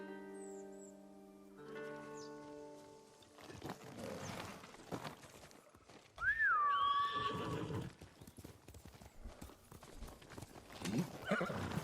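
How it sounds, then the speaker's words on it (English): A horse in the Ghost of Tsushima video game clip-clops along at a steady gait, then lets out a loud whinny partway through, with game music at the start and hoofbeats continuing after. "You're a good horse, Kage."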